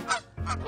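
Geese honking in Vancouver, two loud nasal calls close by with a brief gap between them, heard alone with no talk.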